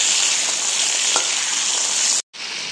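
Eggplant fries in a generous amount of hot oil, giving a steady, dense sizzle close by with a faint stirring scrape, cut off briefly near the end before the sizzling resumes.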